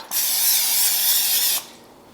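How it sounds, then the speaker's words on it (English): A steady aerosol cooking spray hisses close by into a crock pot for about a second and a half, then cuts off abruptly. "the first thing I'll do is spray my crock pot"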